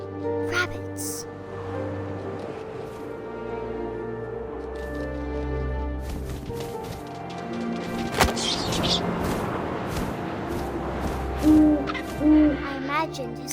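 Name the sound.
owl hooting, from the video game What Remains of Edith Finch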